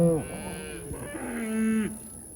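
Cattle on a ranch under rotational grazing let out two loud, close moos, long and drawn out with a falling pitch, clear over a quiet outdoor background.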